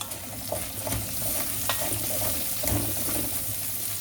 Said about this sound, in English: And next I am adding in the onions.